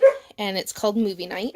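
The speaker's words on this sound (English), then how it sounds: "sorry about my dog, I apologize" A pet dog barks and yips in short bursts close by, overlapping someone talking indoors.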